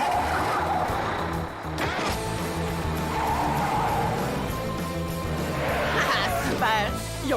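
A cartoon car accelerates with tires skidding and squealing, engine and screeching mixed with lively voices and background music.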